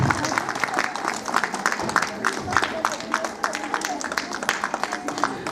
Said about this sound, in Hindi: तो जोरदार तालियां बजती रहनी चाहिए सर के लिए।